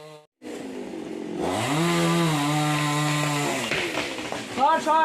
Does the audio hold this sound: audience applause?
no